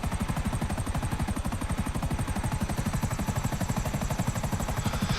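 A helicopter flies in GTA 5 Online, its rotor making a loud, steady, rapid chopping beat that runs through the whole stretch with no talk over it.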